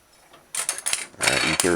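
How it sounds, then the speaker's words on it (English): Food scissors snipping dried chili pepper, several close, sharp metallic cuts in quick succession after a quiet start, with a voice speaking briefly. "So I'm just using a food scissors."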